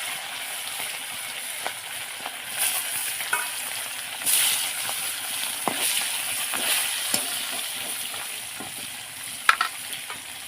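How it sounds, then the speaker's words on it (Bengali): Fish frying in a pan in a home kitchen, a steady crackling sizzle with occasional sharper pops and stirring clatter, close and continuous. "মাছ ভাজা শেষ হয়ে গেছে"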